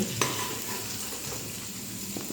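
Pumpkin pieces frying in oil in a pan give a steady, close sizzle with soft stirring scrapes and a brief clink near the start.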